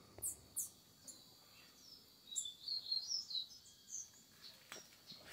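Blue-black grassquits call among other caged songbirds, giving thin, high chirps and short buzzy phrases repeated at intervals over a quiet background, with no voices.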